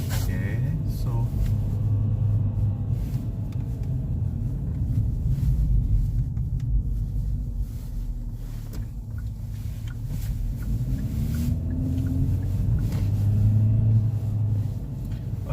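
A 2021 Kia Forte GT with a CVT transmission, heard from inside while driving. A constant low engine and road rumble runs throughout, with a faint rising transmission drone and some muffled talking in the cabin.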